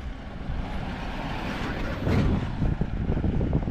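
A motor vehicle passes by on a village road in rural Konkan, a steady broadband engine rumble that swells louder and closer around the midpoint, with wind buffeting the microphone and no talk.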